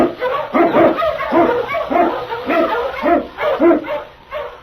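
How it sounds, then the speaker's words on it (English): An Eskimo sled lead dog barks repeatedly in quick, loud, rhythmic bursts close by, with some yipping mixed in against faint background noise. "King, the swiftest, strongest of Eskimo lead dogs"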